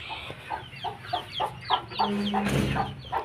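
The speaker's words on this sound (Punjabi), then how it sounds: "ਪੂਰੇ ਡਬਲ ਹੱਡ ਦਾ ਕੁੱਕੜ ਆ" A Vilayati mix rooster, a heavy double-boned bird, gives a series of clucks up close, short calls repeating in a loose rhythm over a low steady background.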